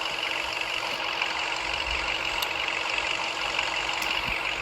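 A Ram 2500 diesel idling in the video game Car Parking Multiplayer 2, a steady, dense rumble that stays constant and close throughout with no break.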